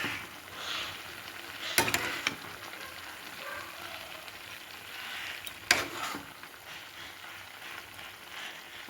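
Cumin, chili and freshly ground spices sizzle in a frying pan as a spoon stirs them, with a soft steady frying hiss broken by two sharp scraping clacks against the pan.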